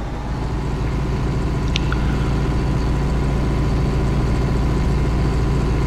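A tractor engine in the farming game Farming Simulator 19 drones at a steady idle throughout, a continuous low rumble with no talk over it.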